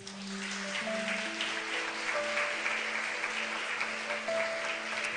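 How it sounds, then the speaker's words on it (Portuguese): A church congregation claps together in sustained, dense applause over a held organ or keyboard chord, steady and moderately distant, filling the whole stretch. "Vamos aplaudir o Senhor."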